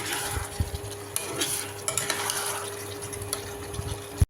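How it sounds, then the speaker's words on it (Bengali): A spoon scrapes and stirs a thick amla pickle mixture with jaggery syrup in a pan, with a faint sizzle underneath and a few sharper knocks against the metal. "ভালো করে মেশাতে হবে।"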